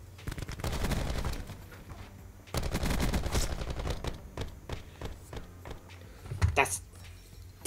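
VAPR-XKG rifle fire in the Black Ops 4 video game comes in rapid automatic bursts, two long strings and shorter spurts, with some talk over the game sound.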